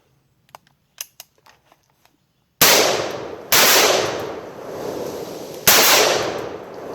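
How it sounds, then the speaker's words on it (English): A SCAR 17S rifle fired without a suppressor: three loud, sharp shots with long ringing decays, preceded by a few faint clicks of handling. "We will fire this rifle unsuppressed and see how it is."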